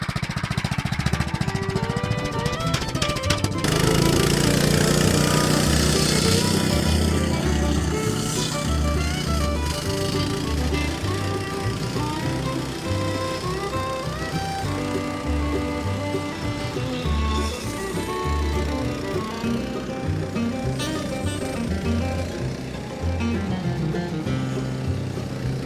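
A sawmill engine runs loud and continuous while its blade cuts through cedar, beginning with the pull start and settling into a steady, droning, vibrating roar with shifting load throughout.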